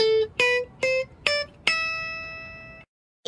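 A guitar plays the Aeolian mode ascending as five distinct plucked notes climbing in pitch at an even pace. The last note rings out before fading to silence.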